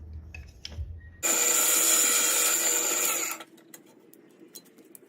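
A hole saw on a bench drill press cuts the core out of a wooden spoked wheel: a loud, high, whining grind lasting about two seconds, with quieter workshop clatter before and after.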